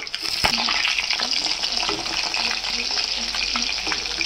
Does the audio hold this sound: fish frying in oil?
yes